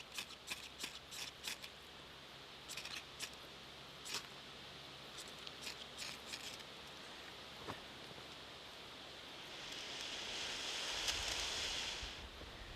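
Fire steel scraped to throw sparks onto crumple tinder outdoors, giving a series of sharp, quick scratching strikes in irregular bursts, close and fairly quiet, followed by a soft rising hiss as the tinder catches.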